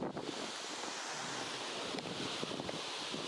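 Rushing water from a waterfall on a trek near Cherrapunji, Meghalaya, a steady, dense roar of broadband noise throughout, with no voices heard.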